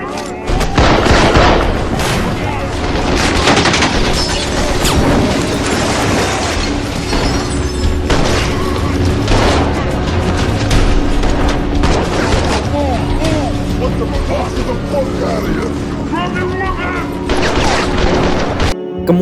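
Bursts of gunfire crackle through a police raid shootout in a Jason Statham action film, dense and loud for the whole stretch, layered with booms and crashing impacts over a busy soundtrack.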